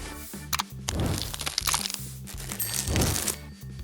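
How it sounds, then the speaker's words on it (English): A Kinder Joy egg is cracked and its plastic wrapper crinkled open up close, giving loud crunchy snaps and rustling bursts in quick succession. "I want to open this Kinder Joy."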